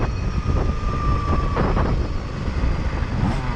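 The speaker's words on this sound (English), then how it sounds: "I'm going to go full speed, then let off the gas, see how long it takes for the engine braking and the regenerative braking to stop the motor." A KTM Freeride E-XC electric dirt bike at full speed downhill, a steady high whine with wind rush and rattling bumps, loud and continuous without voices.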